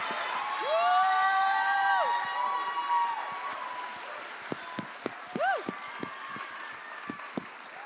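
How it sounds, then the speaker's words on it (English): Wild applause from an audience at a live public-speaking stage event: loud, sustained clapping rises with shrill whoops and whistles, then thins into scattered claps and cheers as a voice begins. "that wild applause"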